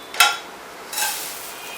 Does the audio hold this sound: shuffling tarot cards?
no